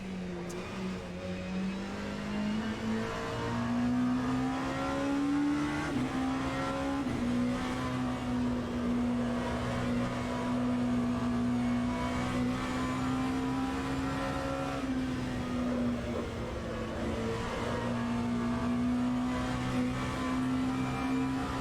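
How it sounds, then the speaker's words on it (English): On-board engine of a race car in a sim racing game at Canadian Tire Motorsport Park (Mosport), a loud continuous drone that rises and dips slightly as the car accelerates through corners, with no talk over it. "Let's hear the engine."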